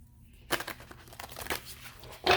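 Tarot cards shuffle in quick crisp riffles and papery crinkles, close by, in a few separate bursts with a brief quiet stretch at the start.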